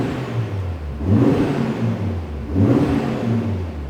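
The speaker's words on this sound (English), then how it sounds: "Can you hear exhaust at back?" An Audi RS3 8Y's exhaust in quiet mode revs up twice, each rise swelling into a deep rumbling burble before easing back to a low, subdued idle.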